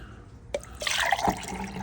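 Water is poured into a container to mix plaster of Paris for a mold, a brief splashing, trickling fill that starts abruptly and runs for about a second, close and moderately loud.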